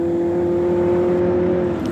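A drag race car, among them a silver Camaro, holds a steady, loud engine drone with a strong sustained tone throughout, close and continuous without a break.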